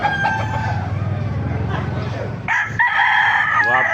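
A 10-month-old bulig rooster at a poultry market crows loudly and close, a long strained call near the end, with clucking from other fowl and background chatter throughout.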